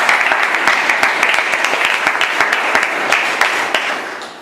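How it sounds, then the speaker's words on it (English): Audience applause for a speaker at an evaluation session, a steady round of dense clapping with sharp individual claps, fairly loud and sustained throughout. "So can we give him a round of applause as well?"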